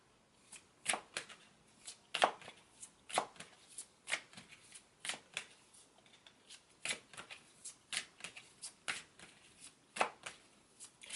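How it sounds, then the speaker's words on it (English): Tarot cards are shuffled repeatedly, a steady run of crisp riffling bursts with short pauses between, close by and otherwise quiet. "Okay, so I'm going to shuffle this."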